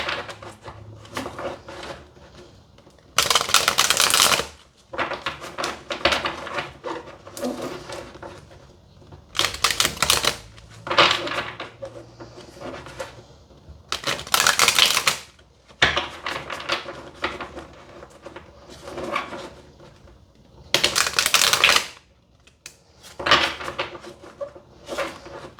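Tarot cards shuffled in four separate brisk bursts of crisp riffling, close and clear, with quieter card handling and soft taps between them.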